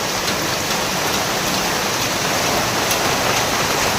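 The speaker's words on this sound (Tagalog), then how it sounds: "Sobrang lakas ng ulan" Very heavy rain pours steadily over a house seen from an upper floor, a dense, loud, unbroken hiss of downpour filling the whole stretch with no voices.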